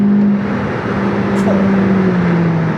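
A car's engine note under full throttle as its automatic gearbox downshifts, a loud sustained drone whose pitch steps and then climbs steadily, with people talking inside the car.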